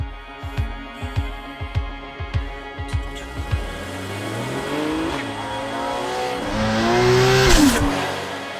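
A Porsche Cayman with a 2.7 liter flat-six drives on a highway, opening with a series of rhythmic low thumps, then a loud steady engine note that rises and falls through gear changes, close and dominant.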